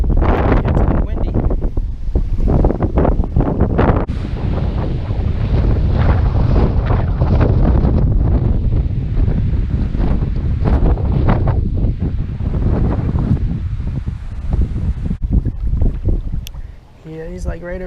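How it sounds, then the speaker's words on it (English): Strong wind buffets the microphone on a lakeshore during shore fishing, a loud constant rumbling roar with gusts that wash over everything, easing slightly near the end. "It's a little windy."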